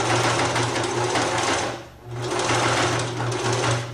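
A sewing machine runs fast, stitching a hem on jeans fabric, a loud continuous rapid whirring that dips briefly in the middle before resuming.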